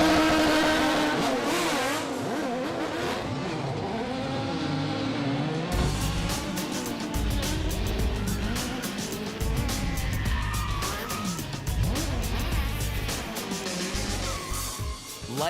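Stunt cars race around a live action movie-stunt show at a theme park, with engines revving and roaring, tires squealing and passes sweeping by, loud and continuous with a busy, echoing outdoor crowd ambience.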